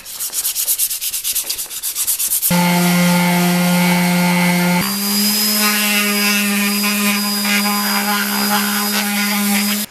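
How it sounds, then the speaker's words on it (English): A power sander drones loudly and continuously on wood for Japanese geta sandals, its motor hum steady with a rough grinding edge, starting after a brief rasping scrub. "I can give the whole thing a good old sand"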